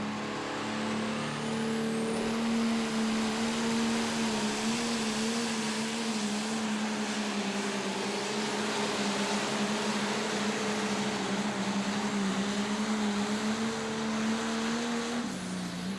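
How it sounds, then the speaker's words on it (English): A limited pro stock pulling tractor runs at a tractor pull in Henry, Illinois, its engine roaring loud and sustained with a steady droning tone that shifts slightly in pitch throughout. "Love the tractor all in black there."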